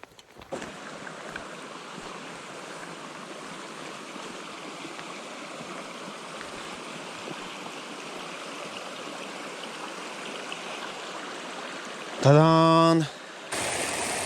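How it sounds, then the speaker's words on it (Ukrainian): A small Carpathian mountain river rushes over stones at a pool, a steady broadband wash of flowing water heard close and continuous, ending with a brief louder sound. "Взагалі річка, як ви бачите, не досить велика, але в цьому місці яма."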